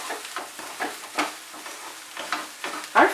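Egg bhurji fries in a pan with coriander and garam masala, giving a continuous sizzle broken by repeated spatula scrapes and stirring strokes at an uneven pace, close and fairly loud.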